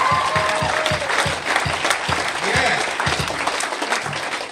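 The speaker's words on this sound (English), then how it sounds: "let's give another round of applause for the old timers" Audience applause for old timers at a Narcotics Anonymous meeting, steady dense clapping filling the room with a few sharper claps standing out, close and loud throughout.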